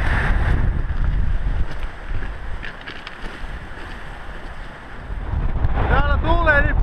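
Strong wind gusting across a mountain ridge at Besseggen in Norway's Jotunheimen, a loud continuous rumbling roar buffeting the microphone that dips briefly mid-way, with a person speaking near the end.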